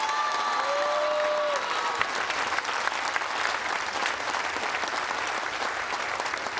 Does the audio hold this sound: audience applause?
yes